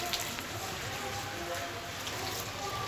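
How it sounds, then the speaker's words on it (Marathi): Steady cold rain falling, a soft continuous patter with faint drips landing on a mobile phone, close by and without a break throughout. "माझ्या मोबाईलवर पाणी पडते"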